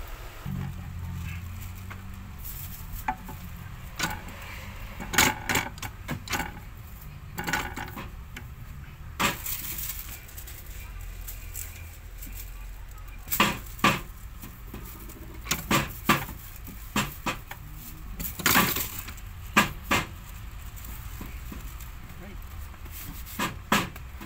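An ANP stamping machine clacks and thumps in a series of sharp, irregular mechanical strikes over a low hum, with someone talking between and under the stamps.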